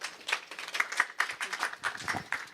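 Brief burst of audience applause for a speaker at an evening venture capital panel event, a room full of dense, irregular claps holding steady for a couple of seconds.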